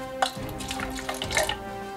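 Water poured into a measuring cup while measuring 1.5 ounces for casting Hirst Arts molds, a brief splashing trickle in two short bursts over a faint motor hum.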